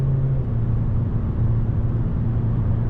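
A Peugeot 508 1.5 BlueHDi 130 hp Allure sedan with stage 1 software climbs a hill, heard as a steady, loud low engine drone and road rumble from inside the cabin, with no talking.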